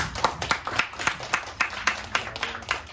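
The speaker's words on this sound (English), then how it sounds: "give yourself a round of applause" Scattered applause from a small audience at a motivational talk, with distinct individual hand claps in an uneven rhythm, fairly close and steady, with no talking over it.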